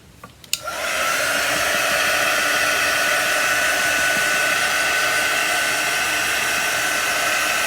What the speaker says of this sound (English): I'm gonna get my little dryer out.